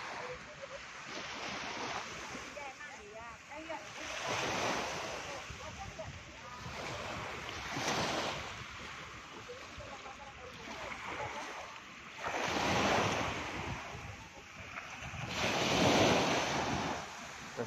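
Waves washing onto the beach at Tanjung Kelayang, Belitung, rolling in slow recurring surges with wind rushing across the microphone, no voices over the surf.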